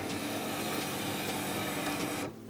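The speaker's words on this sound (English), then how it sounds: "the printer has detected I've opened that door and it's moved the ink cartridges over here into the correct position" Canon PIXMA MG2550S inkjet printer shifting its ink cartridge carriage into position with the front door open: a steady close mechanical whirring and buzzing with faint clicks, stopping abruptly near the end.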